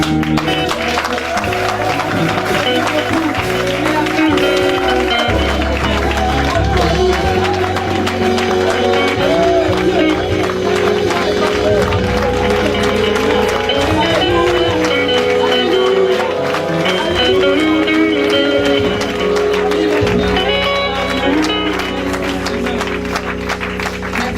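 A church congregation gives a loud, sustained acclamation during a worship service, a continuous dense roar of cheering and clapping with music underneath, steady and close throughout.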